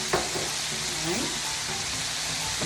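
Butter melting in a pan for a spicy honey butter sauce with hot sauce and honey gives a steady, close sizzle, with a few soft scrapes and stirring sounds over the first seconds.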